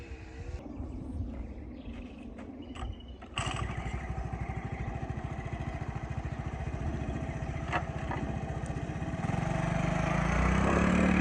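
A 1978 Honda ATC90 three-wheeler engine starts up and runs with a steady, fast putter, growing louder over its last stretch, after a few seconds of quiet clatter and handling noises.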